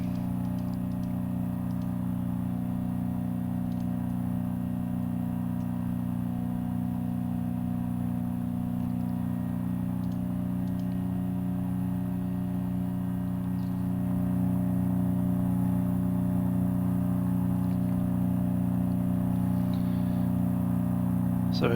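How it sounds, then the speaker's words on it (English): Carenado SR-22 piston engine in a flight simulator, a steady loud drone with strong low harmonics that holds constant and grows slightly louder partway through, with no talk over it. "Bit more engine noise."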